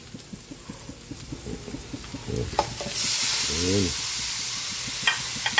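Ground pork or beef hisses and sizzles in hot oil with garlic and onion, a spatula stirring and scraping steadily in rhythmic strokes; the frying swells louder partway through, with a brief spoken word over it.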